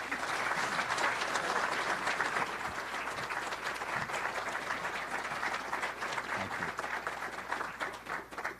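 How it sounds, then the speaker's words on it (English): An audience at a health care discussion with Governor Murphy applauds steadily, a dense wash of many hands clapping that holds for several seconds and then starts to thin slightly toward the end. "Please join me in welcoming Bob Garrett."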